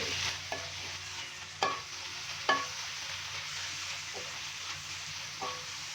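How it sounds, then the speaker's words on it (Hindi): Chicken mince frying over a high flame in a pan, a steady sizzle with a few sharp scrapes of stirring spaced out across the span, moderately near and without talk. "अभी चिकन के कीमे को तकरीबन मैं 4 से 5 मिनट के लिए अच्छी तरह से भून लूँ"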